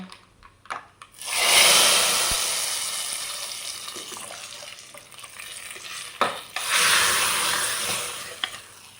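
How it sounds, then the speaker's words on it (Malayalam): Hot mustard seed and chilli tempering is poured into a pot of sambar, setting off a loud, steady sizzle with stirring. It fades briefly, then surges again, and no one speaks. "അപ്പോൾ ഇതാ വറവ് റെഡി ആയിട്ടുണ്ട് നമ്മൾക്ക് സാമ്പാറിലേക്ക് ഒഴിച്ചു കൊടുക്കാം"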